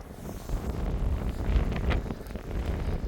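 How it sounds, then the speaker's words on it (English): Cold, icy wind buffets the microphone on Wainuiomata Beach, a steady low roaring rumble with gusty swells throughout and no voices. "Cold, icy wind."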